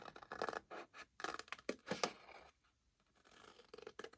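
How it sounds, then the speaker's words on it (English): Scissors snip along a score line in craft paper, a run of close, quiet cuts in uneven bursts with a short pause in the middle, no voices. "I'm going to cut this score out"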